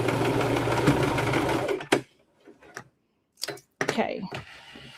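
A sewing machine stitches steadily for about two seconds, then stops, followed by a few short bursts of stitching and handling clicks as the seam is back-tacked.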